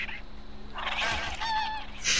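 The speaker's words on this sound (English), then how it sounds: "I'm gonna try to knock out a seagull." A seagull in a video game gives harsh, honking calls in a brief burst of rising and falling cries, fairly close and loud over low background game noise, with no talking.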